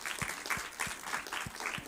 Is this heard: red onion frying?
no